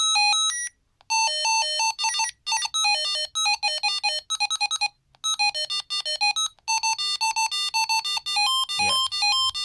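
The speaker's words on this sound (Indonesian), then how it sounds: "Ini calling tones." A Retevis T388 walkie-talkie plays its electronic calling tones: loud, close melodic beeping tunes in repeated bursts separated by brief silences, with a short low noise near the end.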